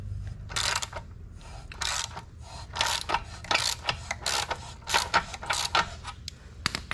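A ratchet with a 28 mm 12-point socket loosens the belt adjuster on a 2021 Zero SR/F electric motorcycle, giving rapid, close clicking bursts in repeated strokes over a low background hum.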